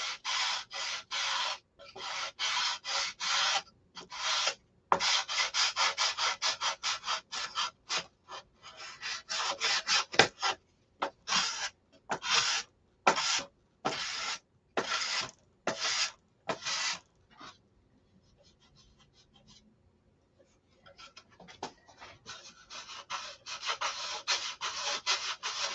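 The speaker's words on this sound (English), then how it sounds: "There'll be much more detail sanding to go." Rhythmic back-and-forth hand sanding on wood, steady rasping strokes repeated closely, pausing briefly before resuming.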